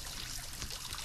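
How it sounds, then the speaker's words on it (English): Water runs from a tap for handwashing in Roblox Brookhaven, a soft steady pouring hiss that carries on evenly without break. "Come on, I'm washing my hands."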